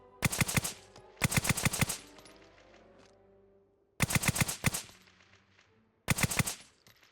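Bursts of rapid automatic gunfire from raiders in a survival video game, four loud volleys of quick shots separated by short pauses, with no voices over them.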